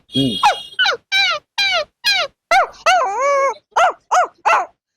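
A man imitates a puppy with his voice, giving about ten short, high, rhythmic yips and one drawn-out whine, loud and close with brief pauses between.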